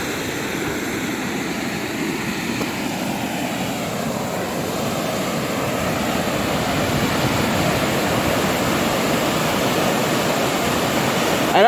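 Water rushes loudly and steadily at Soda Dam in the Jemez Mountains, a continuous close roar that swells slightly toward the end.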